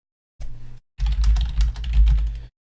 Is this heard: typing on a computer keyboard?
yes